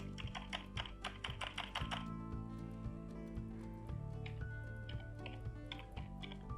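Typing program code on a computer keyboard, a fast run of close, crisp key clicks early on, easing into sparser taps over a steady background hum, with no talking.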